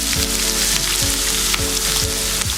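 Green chilies and small onions frying in hot oil with cumin, a steady loud sizzle with periodic scraping strokes of a spoon through the pan.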